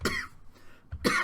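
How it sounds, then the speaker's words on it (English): Two sharp coughs close to the microphone, separated by a brief quiet pause. "I apologize if I end up coughing a lot in this video again."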